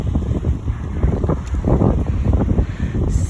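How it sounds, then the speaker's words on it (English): Strong wind buffets the microphone outdoors on a free-range farm with chickens and ducks, a steady loud rumbling roar with gusty swells, no talking. "Super windy"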